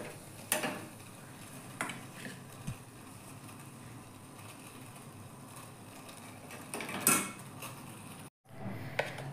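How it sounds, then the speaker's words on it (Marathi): A bay leaf drops into hot oil in a pan and gives off a faint, steady sizzling hiss, with a few light utensil clicks and scrapes against the pot. "तेल तापलेलं आहे, तमालपत्र टाकूया"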